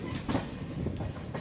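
The Kakatiya Express passenger train runs on rails between Bhadrachalam and Secunderabad, giving a brief, moderately quiet clickety-clack of wheels with rhythmic rail-joint knocks over a steady rumble.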